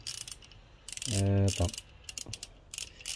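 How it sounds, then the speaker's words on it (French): Torque wrench set to 15 Nm, ratcheting with a socket on a TDI pump-injector diesel engine under restoration, giving a short, close burst of rapid mechanical clicks amid other workshop handling noises. "ma clé elle est réglée à 15 Nm. On va voir le serrage si ça passe bien."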